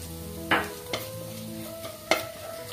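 Turmeric and chili powder frying in a pan, stirred with a few distinct spoon scrapes over a steady low sizzle and faint hum, close and clear, with no voices.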